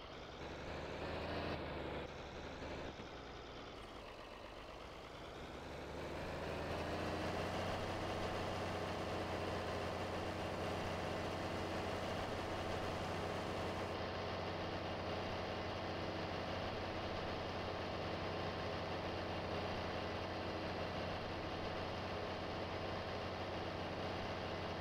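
A John Deere 4020 tractor engine in Farming Simulator 22, a steady low diesel drone that dips briefly near the start, then rises and holds as an even, continuous hum with no talking.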